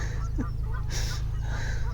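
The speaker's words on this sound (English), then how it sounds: "There's some geese. Yeah, they're accelerating. There they are. They're taking off. Airborne geese." Geese honking as they take off from a canal, heard from a narrowboat, a few short honks over a steady low engine drone.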